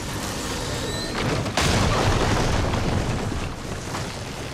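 A hostile machine in the video game Horizon Forbidden West opens fire, with heavy booming blasts swelling into a sustained roaring barrage at close range after a brief whistling charge-up.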